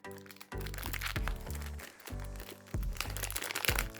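A plastic sachet from a Disney Princess Comics Minis series 2 pack is handled and pulled at, giving loud, close crinkling and crackling in bursts with short pauses.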